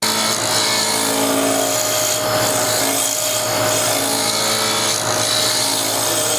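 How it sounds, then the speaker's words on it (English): A wood lathe turns down the bottom of a maple piece, a loud continuous rasping whir with tool scraping against the spinning wood, close and alone without speech. "We're going to turn this bottom down."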